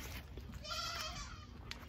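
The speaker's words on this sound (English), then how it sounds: "I hear them little goats." Little goats bleat on a farm during chores, a wavering, moderately close cry that rises and falls over about a second against low background noise, with no talking.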